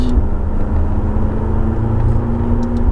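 A McLaren's engine accelerates on a circuit, a loud sustained drone heard from inside the car with a steady rising tone and a constant rumble, with no speech.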